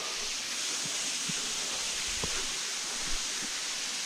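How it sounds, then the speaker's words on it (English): A waterfall at Hocking Hills produces a steady, broad rushing hiss from a moderate distance, with a few faint knocks and rustles over it. "There's the waterfall."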